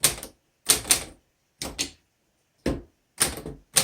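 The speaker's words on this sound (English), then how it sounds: "let's go ahead and type on this and see how it does" Keys clack on a 1936 Corona Standard manual typewriter in short bursts of two or three sharp, close strikes, separated by brief silent pauses.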